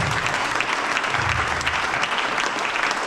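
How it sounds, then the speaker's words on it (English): A theatre audience at a poetry performance at The Byron Theatre claps loudly and continuously as a man is called up, a full sustained roar of many hands with a faint low murmur beneath. "big round of applause for this man here"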